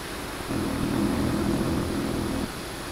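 An F-14 Tomcat flies in the combat flight simulator DCS, its engine roar swelling into a steady, droning hum for about two seconds before dropping back to a fainter background whine.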